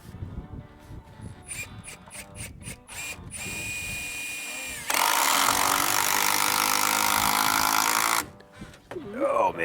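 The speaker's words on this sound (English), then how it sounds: "if you have the impactor, let's run a couple of Red screws" Impact driver running screws into I-joists on a floor-framing job, several short clattering bursts, then a steady whir and one long loud sustained drive of about three seconds, with people talking between the bursts.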